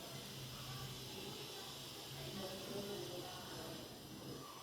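Fish curry bubbling in a pan on the stove, a steady, fairly loud hiss and sizzle that holds evenly throughout with faint bubbling beneath.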